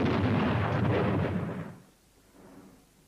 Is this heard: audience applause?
no